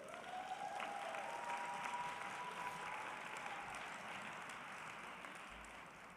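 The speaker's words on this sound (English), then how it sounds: "Give yourself a round of applause." Graduates of a physician assistant commencement ceremony applaud together, a steady, dense wash of clapping from a large crowd heard at a distance, with a faint voice or tone above it.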